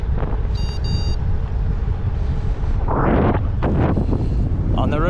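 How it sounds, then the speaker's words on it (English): Wind buffets the microphone during a bicycle ride on a North Texas road, a loud steady rumbling roar throughout, with brief passing tones and a short swell of rushing noise near the end. "It's a little windy."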